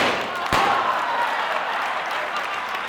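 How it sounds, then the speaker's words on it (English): An audience applauds at an event speech, a steady wash of clapping from a crowd with one sharp thump early on, continuing evenly throughout. "One more round of applause for Michaela."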